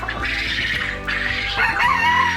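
Ko Shamo chickens and roosters calling nearby: loud overlapping crowing and clucking in a few bursts, one call after another, with no talking over them.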